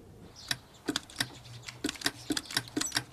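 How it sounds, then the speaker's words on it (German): A Morse key tapped in short and long presses, a quick irregular run of crisp clicks close by and fairly loud, with no one speaking. "Er drückte auf eine Taste, kurz, lang."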